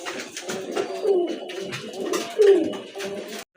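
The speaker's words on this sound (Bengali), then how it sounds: "এটা হচ্ছে আপনার রানিং কাগজি কবুতর" Kagoji pigeons, a running breed with crested heads and feathered feet, coo in repeated low throaty rolls, two stronger swells standing out over a steady background of softer calls at close range.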